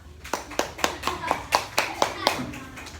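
A classroom applauds a student group with about ten evenly spaced, fairly sparse claps, close and clear, like a few pupils clapping in unison, with faint children's voices underneath.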